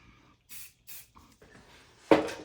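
Several short hissing bursts of hair texture spray, a few quick puffs followed by a stronger, closer spritz near the end.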